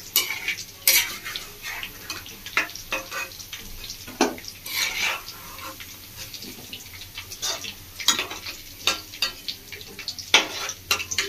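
Chicken pieces frying in oil for chilli chicken, with a soft sizzle under a steady run of metal spatula scrapes and clinks against the pan, close and busy.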